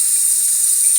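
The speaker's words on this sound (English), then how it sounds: "A sink. Let's check out that water pressure." A hotel bathroom sink tap runs with weak pressure, giving a thin, steady hiss of trickling water close by for the whole second, with no voices.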